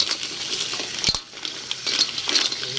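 A pulutan dish sizzles and fries in a pan while being stirred, giving a steady close hiss with a sharp utensil knock against the pan about a second in.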